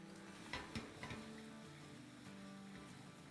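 Chicken pieces fry in oil in a pan with a soft continuous sizzle, broken by a few light clatters of stirring or turning, fairly quiet and close, with no talk.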